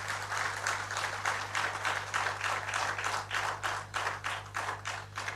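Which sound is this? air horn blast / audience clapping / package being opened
audience clapping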